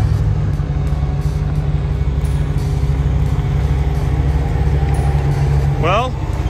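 A repaired Jeep drives on the rough dirt of the Rubicon Trail, its engine a steady close rumble throughout, with a brief rising whine near the end.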